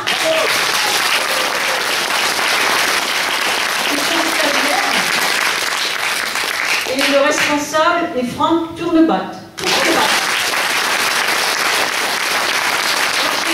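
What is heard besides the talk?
applause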